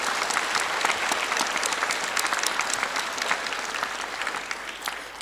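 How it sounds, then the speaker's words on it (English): Applause at the Blue Ridge Academy high school graduation in Thousand Oaks, a large audience clapping in a dense, sustained roar that stays loud throughout before tapering slightly near the end. "Let's give them a well-deserved round of applause."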